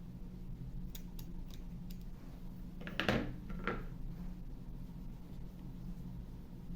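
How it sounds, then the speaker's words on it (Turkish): Scissors snip crochet yarn while finishing a baby's crocheted vest, a few quiet close-up snips over soft room noise, with no speech. "En son motifi esnettim ve dışarıda kalan ipi kesiyorum."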